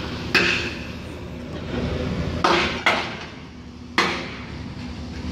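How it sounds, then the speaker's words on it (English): During building demolition, a hammer pounds off welds with four sharp metallic strikes spaced unevenly over a constant low rumble of machinery, each hit ringing close and loud. "Trying to pound it off."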